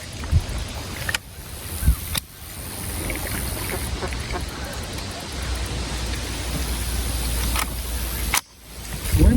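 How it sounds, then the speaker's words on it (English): Gusty wind buffets an outdoor shooting range during sighting-in of a Ruger 10/22 rifle, a steady broadband roar that swells and drops with short lulls, loud and close throughout with no talk. "The wind's kind of gusty today."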